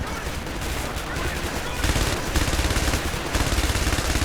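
Helicopter support unleashing rapid machine-gun fire in the defense video game Is Defense, dense crackling bursts rolling on continuously and growing louder partway through.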